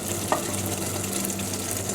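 Boiled potatoes sizzle and get stirred into a Bombay-style tawa pulao, a steady close frying hiss with a faint scrape of the spoon early on and no voices.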